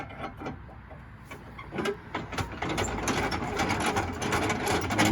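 A screw is driven into the stabilizer support of a 2001 Palomino camper, giving a close mechanical ratcheting whir with rapid repeated clicks that grows steadier and louder toward the end, with no talking.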